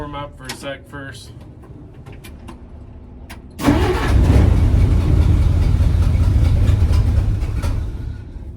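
A car engine fitted with a freshly rebuilt Stromberg carburetor cranks and catches partway through, then settles into a loud, steady idle that runs to the end, with brief talk before it starts.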